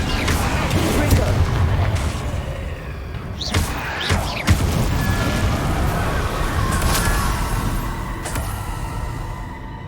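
Confringo spell blasts in Hogwarts Legacy on PS5: several booming impacts burst out over a steady rumbling background of combat noise.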